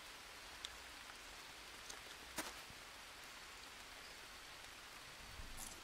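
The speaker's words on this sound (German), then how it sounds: "Aber der Regen ist gut, der macht mich sauber." Steady rain falls in the jungle survival game Green Hell, a soft, even hiss of drops on surfaces, with a few faint clicks and rustles and no talk.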